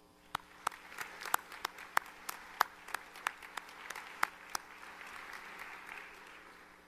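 A small audience at a spring commencement gives a sparse round of applause: a dozen or so distinct hand claps ring out loosely over several seconds, then fade into a soft murmur of the room.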